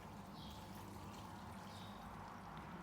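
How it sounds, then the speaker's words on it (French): Salted water poured into vermicelli makes a faint, steady liquid splash and trickle, continuous and close, with no voices over it. "Et je verse dans mes vermicelles."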